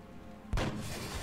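A single sharp gunshot from the turn-based strategy game X-COM: Enemy Unknown, fired as an overwatch headshot, strikes suddenly out of quiet background ambience, followed by a lingering, noisy decay.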